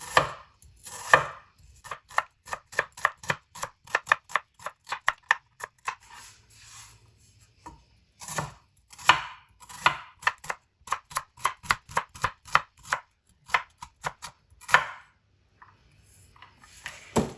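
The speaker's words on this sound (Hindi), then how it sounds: "प्याज की कटिंग इस तरह आपने करनी है" A knife chops an onion on a board in quick, crisp rhythmic bursts of taps. The strokes come in runs with short pauses between them, close and clear, and there is no talking.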